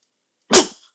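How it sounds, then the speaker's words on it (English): A single short, sharp sneeze close to the microphone, one burst lasting under half a second out of silence. "Sorry, that was a sneeze."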